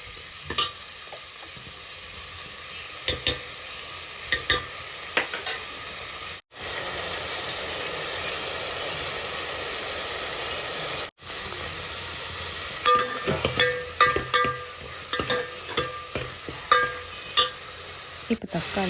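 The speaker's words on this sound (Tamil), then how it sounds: "அதை நம்ம போட்டு நல்லா பொரித்து பதத்துக்கு வதக்க போகிறோம்" Tomatoes fry and are stirred in a pan for a radish sambar, with a constant, close, loud sizzle and hiss broken by bursts of spoon scraping against the pan and two brief drops to silence.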